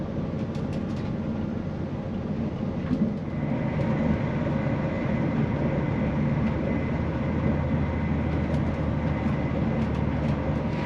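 Steady low rumble and rolling drone from inside a CrossCountry passenger train carriage on a long run from Aberdeen, continuous throughout, with a slight rise in intensity a few seconds in and faint ticks above.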